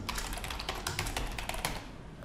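Rapid typing on a computer keyboard, with dense, steady key clicks running through the whole stretch. No voices are present.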